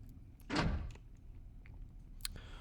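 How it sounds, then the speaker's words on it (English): A door opening in the indie video game Redacted 2, a single soft thudding swing with a brief scrape, followed by faint clicks and a quiet ambient hum. "let's open the door"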